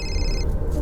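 A mobile phone ringing indoors, a bright electronic ring tone in quick bursts for about half a second, then stopping over a low background hum.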